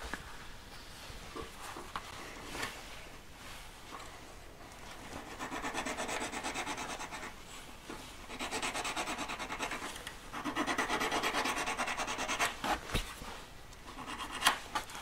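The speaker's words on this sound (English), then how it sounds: "If you get these grooves in the correct position, just keep filing around" A hand file working a three-stone ring setting at a jeweller's bench, giving quiet rasping strokes in uneven bursts, some longer passes and short scrapes, with small taps between, fairly close and with no talk.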